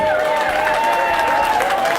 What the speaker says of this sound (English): would you all give yourselves a warm round of applause?